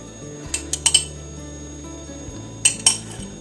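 A metal spoon clinks against a dish while tablespoons of a chickweed herbal decoction are measured out, giving a cluster of light taps followed by two louder chinks after a pause, set against a steady low hum.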